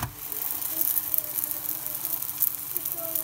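Msemen flatbread sizzling in a hot pan, a steady faint crackle and hiss running evenly throughout with no voices.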